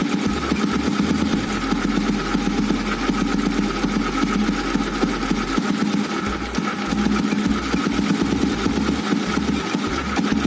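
Close, steady idle of an old Royal Enfield Bullet motorcycle while its VM-24 carburetor is tuned. The engine keeps up a continuous, even chugging throb the whole time, with no voices over it.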